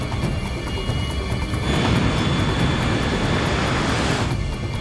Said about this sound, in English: We, you know, are picking up speed and then lift off.